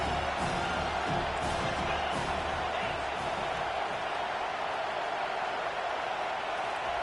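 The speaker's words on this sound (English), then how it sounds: "Big third down as the crowd gets behind this defense" A stadium crowd in the college football video game NCAA 25 roars in a continuous, loud wash of cheering that holds steady throughout, with faint voices mixed in.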